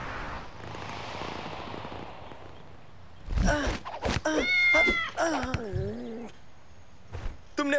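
A cartoon cat meows in a quick run of several short, loud, pitch-bending cries after a stretch of quieter background noise, with one more brief yelp near the end.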